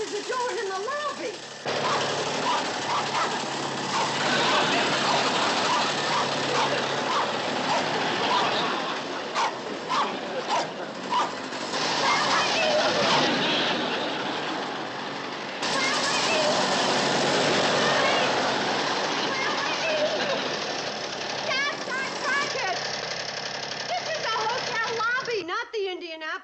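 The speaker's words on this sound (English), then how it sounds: "That sounds like Willie's motorbike." Willie's motorbike engine sputters and rattles indoors in a hotel lobby, running steadily and fairly loud for most of the stretch, with a dog barking and people talking over it.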